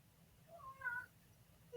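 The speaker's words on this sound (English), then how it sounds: "Is our cat Comet talking to you right now?" A house cat meows once or twice, a soft, drawn-out call rising and falling over quiet room tone. No one speaks.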